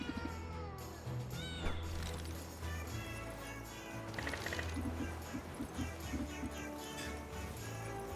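Cats meow in the video game Potionomics, several short cries layered over the game's busy background music, with no talking.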